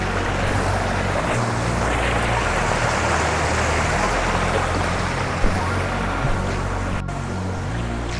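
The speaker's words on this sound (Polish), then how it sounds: "Czyli jest tu jakiś wodospad." A waterfall in a canyon pours with a dense, steady roar of rushing water, loud and constant throughout, with no talk.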